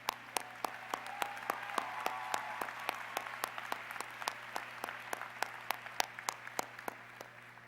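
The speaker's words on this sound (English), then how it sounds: "But hand clap to you two." Slow, sparse hand claps ring out at a university college of education commencement ceremony, sharp distinct strikes at an uneven rhythm over a steady low hum, with faint murmuring beneath.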